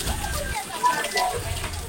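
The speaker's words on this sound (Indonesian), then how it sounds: "seperti inilah penampakan pancuran dari air Karahma Sawargi atau Cai Karahma" Water pours steadily from the spout of the Cai Karomah Sawargi cave spring, a continuous close splashing gush without breaks.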